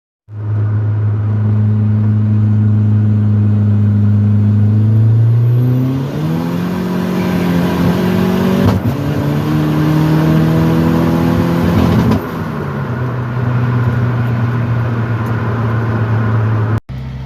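A Ford Probe engine on race gas revs through a full boost pull, a loud droning tone that climbs in pitch, holds high, then drops back to a steady lower hum near the end.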